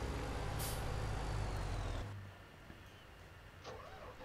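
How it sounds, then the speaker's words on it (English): Truck in Farming Simulator 17 releasing a loud hiss of air brakes over a steady engine rumble, the noise dropping away after about two seconds to a quieter idle with a faint later chirp. "Yeah, let me go get my truck."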